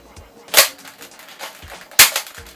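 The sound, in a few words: Nerf Strongarm blaster slam firing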